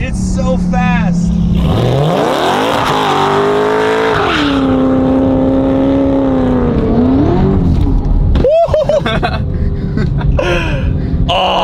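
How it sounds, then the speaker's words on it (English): Hennessey sports car accelerating hard with wheelspin, a loud rising engine note with tire squeal and shifting revs, while excited voices talk over it. "We were just spinning the whole time!"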